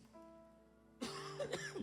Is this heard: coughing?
yes